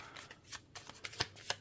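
Tarot cards being shuffled by hand, a run of quick papery riffles and soft slaps in uneven bursts, close and fairly quiet with no talking.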